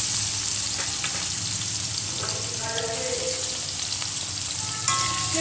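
Green chilli and chopped onion fry in hot oil in a wok, giving a steady close sizzle with a few faint clinks and stirring sounds over a constant hiss.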